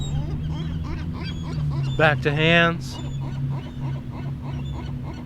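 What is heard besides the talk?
upset seagulls calling at a marina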